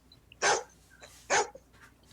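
A dog barks twice, sharp and fairly close, about a second apart, with faint yips and quiet background between.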